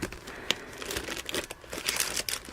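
Old dollar store scrapbooking paper is handled close up, making crisp crinkling and rustling bursts of uneven texture with a few sharper crackles and no voice over it.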